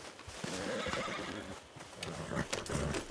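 A horse in Red Dead Redemption 2 whinnies and neighs loudly up close, skittish around gunfire, with hoof clip-clops mixed in over dense game ambience.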